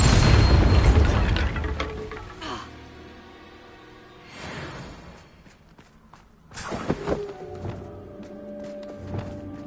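A Bombarda blast spell from a Hogwarts wizarding video game booms out in a low, heavy burst at the start, followed by rumbling thuds and a second impact near the middle, with speech also present.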